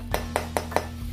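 Four hard, dry knocks in an even rhythm as dried sampa survival-food crackers are tapped against a surface, close and clear over a low steady hum.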